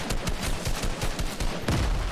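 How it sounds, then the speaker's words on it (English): Gunfire in the video game Fortnite, a dense fusillade of overlapping shots in quick succession, fairly loud and continuous across the moment. "I'm getting shot from like point blank range in the back."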